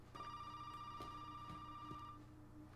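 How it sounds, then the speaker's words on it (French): A telephone ringing in the horror video game Resident Evil 7, a faint, thin electronic ring tone held for about two seconds before cutting off, with low ambient rumble and soft knocks around it. "Ah, le bruit du téléphone, il me fait mal aux oreilles."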